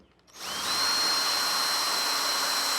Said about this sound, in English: now I just need to drill it out